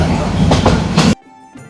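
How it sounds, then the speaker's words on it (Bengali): A train running toward Boroipotol station on the Tangail to Jamalpur line rumbles loudly and close with rhythmic clatter, then the sound cuts off abruptly after about a second, leaving faint low noise. "এরপর ট্রেন ছুটে চলল বড়ইপটল স্টেশনের দিকে।"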